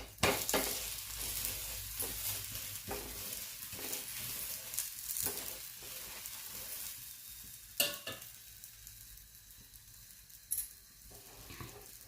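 A wheat flour flatbread roasts in oil on a pan, producing a continuous soft sizzle with a few louder crackles and pops, close and steady, with no talk.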